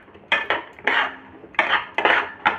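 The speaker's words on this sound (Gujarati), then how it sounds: "શેંગાને સરસ મિક્સ કરી લેશું" Peanuts being mixed into melted jaggery in a pan while peanut chikki is made. Several distinct bursts of a spoon scraping and clinking against the pan come in uneven rhythm, close and fairly loud, with no speech.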